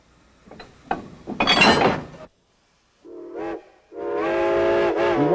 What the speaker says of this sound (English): We watch this train leave before boarding another train bound for Whitaker Station.